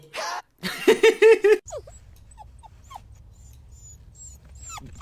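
A dog yips and whimpers in a quick burst of high, whiny cries, then scattered soft whines continue over a low background hum.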